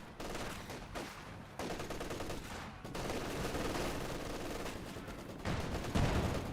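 A light artillery barrage from a Soviet ZiS gun in the Company of Heroes 2 strategy game: dense, continuous booms and crackling blasts that swell and overlap for several seconds.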